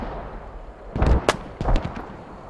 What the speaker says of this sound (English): Grenade going in directly on Raptor